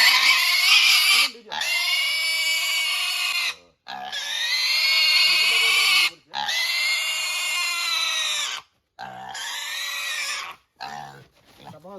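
Piglets squeal loudly and shrilly in long repeated bursts with short gaps, close by, as they are handled during delivery near Hajo, Guwahati.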